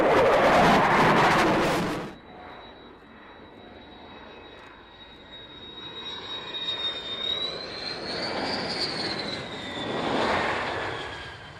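A Belgian Air Force aircraft lands on runway 27 at Fairford, starting with a loud roaring burst, then a high engine whine and rushing noise that swells and fades at a distance.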